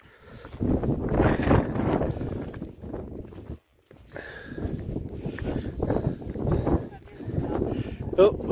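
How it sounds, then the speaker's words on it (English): Cold wind gusts across a mountain top on the Appalachian Trail, buffeting the microphone in rough low rushes with a brief lull midway, along with crunching footsteps. "Cold and windy up here."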